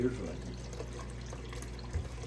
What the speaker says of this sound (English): So we'll give it about a minute's worth of water running.